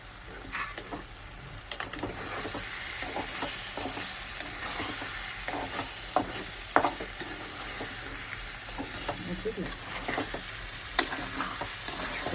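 Egg tamarind curry being stirred in a hot pan, a constant sizzle broken by repeated spoon scrapes and clacks against the metal in an irregular rhythm, close and fairly loud, with no voices.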